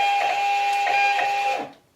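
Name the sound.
label printer printing a shipping label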